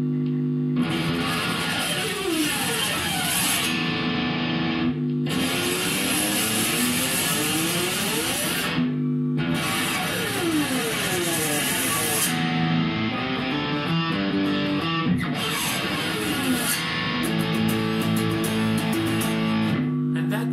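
Electric guitar pick slides played through distortion or overdrive, with the pick scraped along the strings from the bridge up. Loud, gritty sweeping scrapes repeat in several bursts over sustained distorted chords, with no voice.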